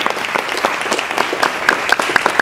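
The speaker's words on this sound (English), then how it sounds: "another round of applause for the National World War II Museum for hosting us today" An audience at the National World War II Museum in New Orleans applauds, many close, distinct hand claps in a lively, uneven patter that stays loud throughout.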